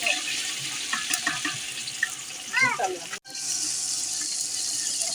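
Ginger and garlic frying in hot oil while cooking at a rooftop picnic, a continuous bright hiss that swells briefly midway, then drops out for an instant before resuming evenly.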